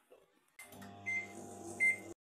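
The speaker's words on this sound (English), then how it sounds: "I am going to keep this in the microwave." A microwave oven heating a vanilla mug cake hums steadily for about a second and a half, with two short high beeps sounding over the drone.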